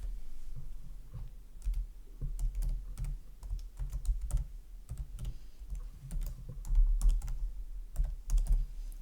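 Rapid, uneven keystrokes on a computer keyboard as an email address is entered, close and fairly quiet, with clustered clicks running steadily throughout and no voices.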